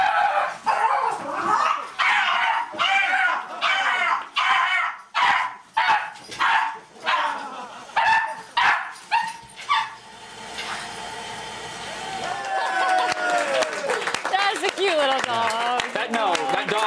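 A tiny dog barks and yips in a rapid, uneven run of sharp, high barks for about ten seconds, with voices heard throughout and continuing after the barking stops.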